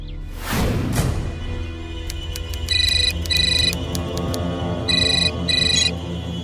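A phone ringtone sounds in repeated electronic bursts, paired rings recurring at a steady pace over a low background hum, after a brief whooshing sweep.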